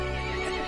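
A horse neighs in Resident Evil Village: one brief, dense, sustained whinny layered with game ambience, filling the short moment with no speech.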